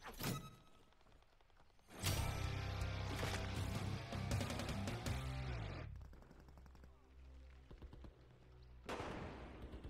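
Sniper rifle gunfire in the video game Call of Duty Modern Warfare III, a sharp shot early on, then a loud sustained burst of gunfire and impacts, followed by quieter rumbling and another blast near the end.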